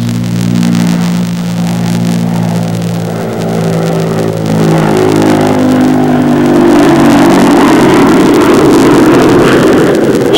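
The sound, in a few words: bomber jet engines roaring on takeoff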